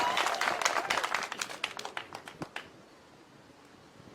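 A crowd claps and applauds for the President at an outdoor political gathering in Kenya, dense and loud at first, then thinning into scattered claps before fading out.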